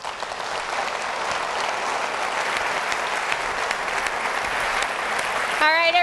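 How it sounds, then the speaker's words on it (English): Audience applause at a talk by the CEO of Arrow Electronics: dense, steady clapping from a large crowd that carries on for several seconds without a break. "Big round of applause for Mike Long."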